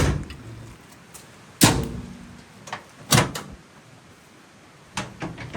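A door on a Polaris RZR Pro R 4 side-by-side with loose latches shuts with three or four sharp, rattly slams spaced a second or two apart, loud and close against a quiet background.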